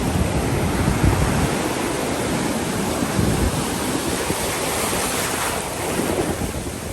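Constant roar of ocean surf washing onto a beach, with gusty wind buffeting the microphone; no voices.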